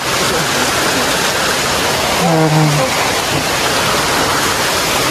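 Steady heavy rain pours at an outdoor family gathering at Lake Sebu, a loud continuous hiss throughout, with a brief faint voice partly buried beneath it.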